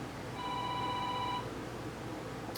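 A landline telephone gives one electronic ring of about a second, then falls quiet over a faint room background.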